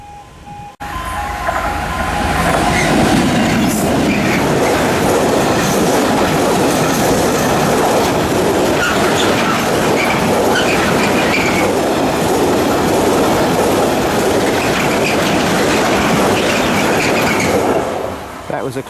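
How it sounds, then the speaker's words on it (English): A heavy Class 66 freight train passes close by without stopping, a loud continuous rumble with rattling wagons and wheel clatter that fades at the end. "that noise means a train's coming, but it's not going to stop here."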